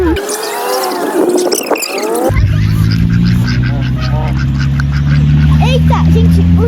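Geese and ducks quack and honk loudly and close by at feeding time, a busy overlapping chorus under a steady low engine-like drone, with someone speaking over them.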